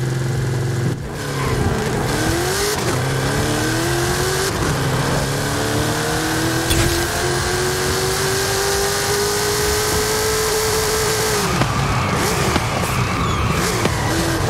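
Chevrolet Camaro COPO drag car in Forza Horizon 5 launching from 3000 rpm: a loud, sustained engine roar with rising rev sweeps through successive gears, continuous and close, with no talk over it.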